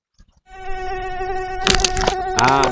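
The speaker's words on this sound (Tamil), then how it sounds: "என்னடா கொசு கடிக்குது?" A mosquito whines close by in a thin, steady, high-pitched drone that starts abruptly and carries on, interrupted near the end by two sharp bursts of noise.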